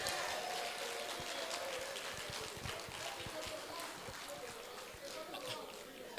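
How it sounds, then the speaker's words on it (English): A conference audience at a Sub-Saharan African security event applauds, a dense, steady patter of many hands lasting several seconds at moderate level, with murmuring voices mixed in. "Can you give me a round of applause again?"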